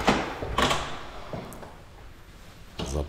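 An apartment building's entrance door in Istanbul is unlocked with a key card and swung open, giving a couple of close clunks and rattles followed by a quieter stretch and another knock at the end.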